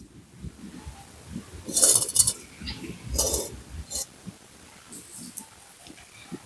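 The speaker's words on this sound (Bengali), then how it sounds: "এবার আমি কড়াইটা বসিয়ে দিলাম" A kadai (wok) set down on a lit stove while making malpua, giving two short, close metallic clinks a second or so apart over quiet kitchen background.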